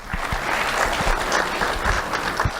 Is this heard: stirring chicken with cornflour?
no